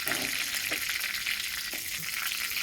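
Cumin seeds hit hot oil in a pan for a jackfruit and potato dish, giving a steady, close, hissing sizzle that runs without a break, with a few faint clinks beneath.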